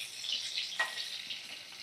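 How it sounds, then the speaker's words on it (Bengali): Potatoes fry in turmeric- and salt-laced oil over a medium flame, giving a soft, faint, continuous sizzle with a few brief crackles. "এইভাবে ভাজা করে নিচ্ছি"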